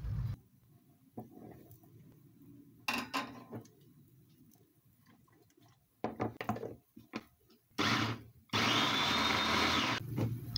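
A blender grinds sambal ingredients with a little water in short bursts, ending in a loud continuous whir, with quieter clattering between the runs.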